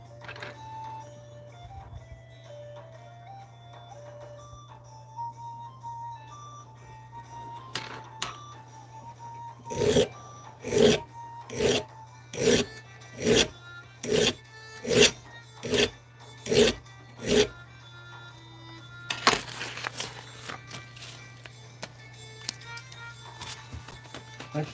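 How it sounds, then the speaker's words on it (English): A hand file worked across a workpiece edge, about nine regular rasping strokes in a steady rhythm, close and fairly loud after a quieter stretch with a low hum underneath, then a burst of rougher scraping. "I should grab a bigger file."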